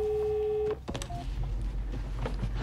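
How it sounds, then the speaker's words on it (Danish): A telephone at an emergency call centre rings with a steady electronic tone, followed by clicks and muffled low room noise as the tone cuts off. "Det ringer."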